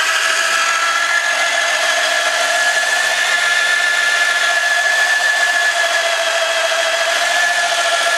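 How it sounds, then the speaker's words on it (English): A power drill runs continuously with a steady high-pitched whine, close and loud, grinding into wood without pause. "It's drilling slowly."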